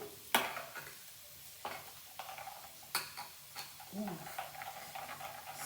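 A spoon stirs ground red chilli paste into a dum aloo curry in a pan, with repeated scraping strokes over a soft sizzle and a quiet voice speaking now and then.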